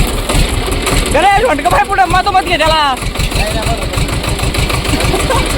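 A tractor engine idles with a steady low chugging pulse that runs throughout, starting out partly under close, lively conversation among several people and continuing fairly loud and alone once the voices stop.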